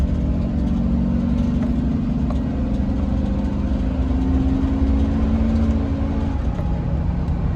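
A 2007 Roadtrek Popular 210 camper van engine drones steadily from inside the cab as it pulls onto a highway, a constant low rumble with road noise and no talking.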